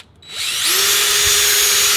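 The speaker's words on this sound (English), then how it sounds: "So now we're going to have to drill this out just a little bit." A power drill bores out a wooden 2x4 for a DIY cornhole board, starting after a brief quiet moment and spinning up into a loud, steady high-pitched whine that holds to the end.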